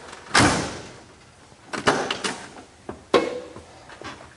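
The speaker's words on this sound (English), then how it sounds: "The driver's side door opens and closes wonderfully." Driver's side door of a 1966 Chevrolet Chevelle, a sharp latch clunk as it opens, creaks and rattles as it swings, then two solid thumps as it shuts, close up with no talking.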